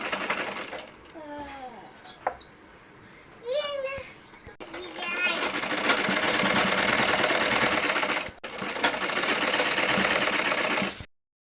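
Sewing machine stitching both side seams of a small child's garment sewn from leftover fabric scraps, running in long continuous bursts with a short pause between them, close and fairly loud, with a voice talking briefly at the start.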